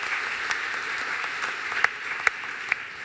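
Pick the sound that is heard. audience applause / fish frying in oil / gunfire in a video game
audience applause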